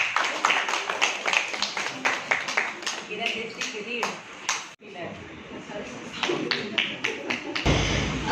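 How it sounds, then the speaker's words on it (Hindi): An audience applauds a speaker at a Hindi-language event honouring brave soldiers. The clapping comes in sharp, uneven claps with taps, breaks off briefly and then resumes, and voices are heard in the background. "आपके लिए जोरदार तालियां का अभिवादन करें"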